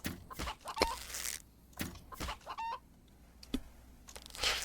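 A chicken clucks in several short, separate bursts, fairly close and moderately loud, with footsteps and faint ambient noise in the gaps between calls.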